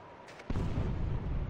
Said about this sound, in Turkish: Büyük bir patlama sesi.